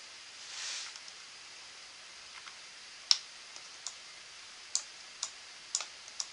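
Computer mouse clicks, several sharp, faint, close taps spaced irregularly over a quiet background, one click standing out louder than the rest.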